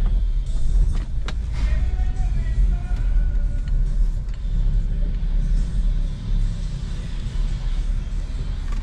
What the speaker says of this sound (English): Oh, it sounds grindy everywhere.